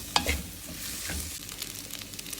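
Vegetable spaghetti is tossed and stirred in a pan to coat it with sauce: a couple of soft scrapes and clinks, then a low continuous sizzle, fairly quiet and close, with no voices.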